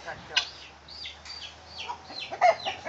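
A hen clucks in a backyard coop near silkie chickens, with short soft clucks and chirps repeated over a quiet hum; no talk is heard.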